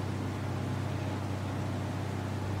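The boat in Ghost Recon Wildlands throbs with a steady, low engine drone under a constant rush of water and wind. It stays close and even throughout, with no talk.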